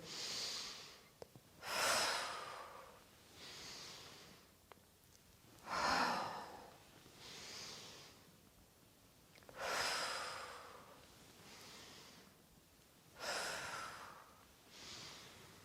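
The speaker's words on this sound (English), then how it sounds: "Inhale up, exhale down nice and slowly." Slow, steady breathing during a yoga flow, with long audible inhales and exhales recurring about every four seconds, soft and close with quiet pauses between breaths.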